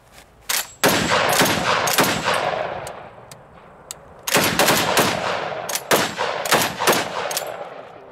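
Machine guns fire at targets on a range in Lichkov, loud bursts of rapid shots near the mic, a short burst, then repeated volleys with pauses between them and echoing tails.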